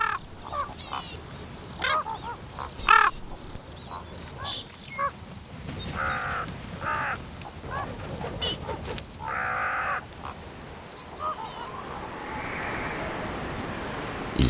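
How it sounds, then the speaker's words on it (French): Common ravens call around a ewe carcass left behind a flock, giving repeated harsh, croaking caws at close to middle distance over steady outdoor background noise. "Ce cadavre de brebis abandonné derrière le troupeau vient d'être repéré par les grands corbeaux."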